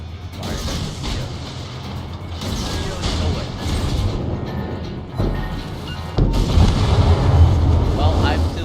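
Naval guns fire in the World of Warships game, heavy booming shots landing at irregular intervals over continuous mechanical game rumble and clatter, with a louder, denser salvo near the end.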